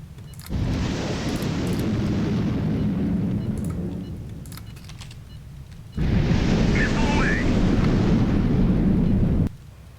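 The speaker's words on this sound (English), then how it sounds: "Let's do a full barrage." An artillery barrage in the HighFleet warship game: two long stretches of deep, roaring booms and rumbling blasts, each a few seconds long, split by a short lull, with no voices.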